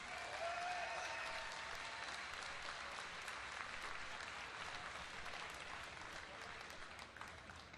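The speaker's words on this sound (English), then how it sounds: "Huge round of applause again to your champion, NEXGenius." Sustained applause from a large audience at a BlizzCon 2010 esports championship, steady dense clapping that holds throughout and tapers slightly toward the end.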